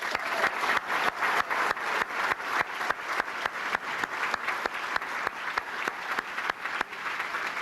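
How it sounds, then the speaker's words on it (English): At the Enfield Athletic Hall of Fame ceremony, an audience claps for an undefeated 1948 team being honored. The claps fall in a strong, steady, rhythmic pattern and stay loud and even for about eight seconds. "Big round of applause for these guys"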